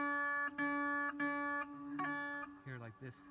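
A single string on a 25-string guitar veena is plucked and slid, ringing with a bright sustained tone in a few separate notes that bend and decay, close and clear, with no voices.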